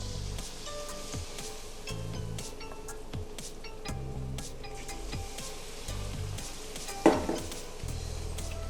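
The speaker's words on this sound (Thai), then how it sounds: "แล้วเดี๋ยวเราไปลงกระทะกันเลยนะครับ หลังจากนั้นเราก็มาทอดทันทีนะครับ" Pork belly sizzles steadily as it deep-fries in a hot pan over medium heat, with soft scraping and stirring clatter, and one sharper clink near the end.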